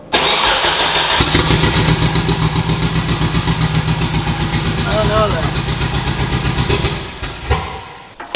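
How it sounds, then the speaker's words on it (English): A Nissan KA24 engine in a 240SX cranks and catches, then runs rough and uneven on one cylinder with a lumpy, pulsing idle close by before cutting out; a voice talks briefly over it. "it runs-ish, but it doesn't sound like it's running on more than one cylinder"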